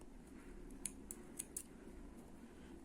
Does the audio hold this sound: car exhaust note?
no